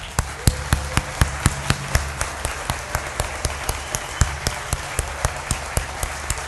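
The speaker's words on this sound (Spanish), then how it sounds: "Varones, se propondrían ustedes a darles un fuerte aplauso a estas damas" Men in a church congregation give applause for the women during a Mother's Day sermon, heard as a steady, evenly spaced run of sharp claps, loud and close, with a low hum beneath.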